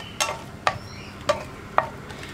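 Okra pieces spread one by one into a hot pan for sambar, four separate close clacks spaced about half a second apart over a faint low sizzle.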